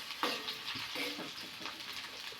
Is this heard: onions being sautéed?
yes